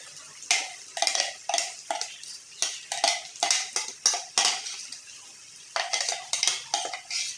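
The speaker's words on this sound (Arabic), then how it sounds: "نزيدلو البصل حبه بصل اللي درتها" Onion being stirred with rabbit pieces in a frying tagine: a steady run of close scraping, clattering stirs against the pot, repeated in quick bursts with a few short pauses, no talk.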